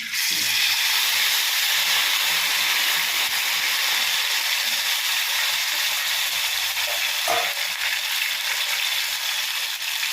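Prawns for prawn 65 frying in hot oil, a steady loud sizzle and hiss that continues throughout with no talking.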